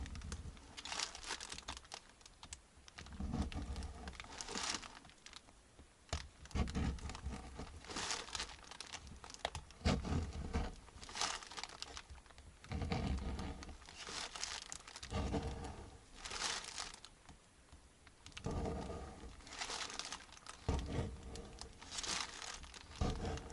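A tin can being forced open by hand without a can opener out in the taiga, heard as steady close crinkling, scraping and tearing metal noises in repeated bursts over a long stretch.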